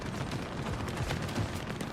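Units in a video game open fire while moving, producing dense, continuous rattling volleys of gunfire that sound loud and close, with no voices over them.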